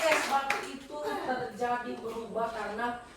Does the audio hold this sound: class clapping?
yes